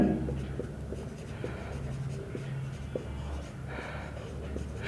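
Pen or marker writing out a math lecture on matrices and determinants, soft continuous scratchy strokes with small taps, quiet, over a low background hum.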